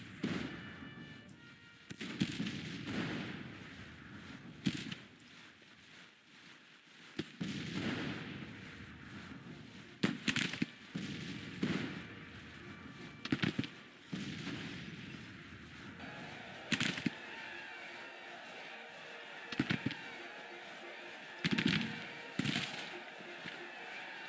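Artillery and rifle fire in a Civil War strategy battle game, sharp scattered shots and booming blasts at irregular intervals over a low rumbling battlefield bed, some bursts clustered, no talk.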